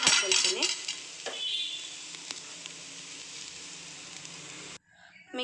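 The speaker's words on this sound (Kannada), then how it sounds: "ಈಗ ಏನು ಈರುಳ್ಳಿ ಮತ್ತು ನಾವು ಬೆಳ್ಳುಳ್ಳಿಯನ್ನು ಫ್ರೈ ಮಾಡ್ತಾ ಇದ್ದೀವಲ್ಲ" Onion and garlic frying in a pan for a sheep head and trotter curry, sizzling close up with a few clinks and scrapes from a utensil early on, then a steady hiss that cuts off abruptly near the end.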